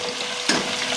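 Onions go into a hot pan already cooking garlic over fairly high heat, setting off a steady close sizzle with a brief louder burst as they land.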